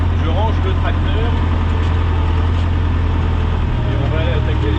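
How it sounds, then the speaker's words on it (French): A farm tractor engine running steadily while being driven and parked, a loud continuous low diesel drone close by, with faint bird calls and some indistinct voice in the background. "Je range le tracteur"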